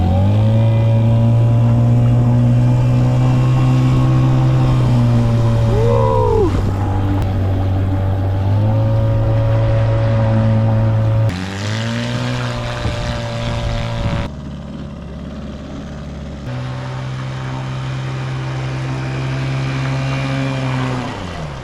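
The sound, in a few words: motorized Tuggy sandbox boat engine revving on a lake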